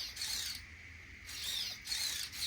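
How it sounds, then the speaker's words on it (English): Strained servo of a Traxxas Bandit RC car after salt-water exposure, giving a steady mechanical whine and grinding buzz with brief surges, close and continuous, no talking. "as you can hear, the servo's not happy, but it's working"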